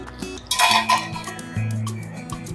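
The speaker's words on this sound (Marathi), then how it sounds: "आपण झाकण काढूया आता." A metal lid lifted off a cooking pot of simmering shev bhaji curry gives a bright clank followed by lighter clinks, close and fairly loud, with no voices.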